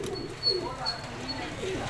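Soft, low cooing of striped-neck low-flyer pigeons murmurs on and off, with a faint high chirp and some background noise.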